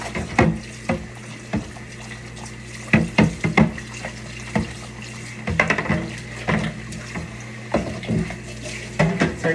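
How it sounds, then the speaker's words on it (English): Water poured out of a stainless steel pot at a sink, with running-tap splashing, clanks of metal, and intermittent knocks and scrapes of the pot throughout, moderately close and without talk. "Take that water, pour it out."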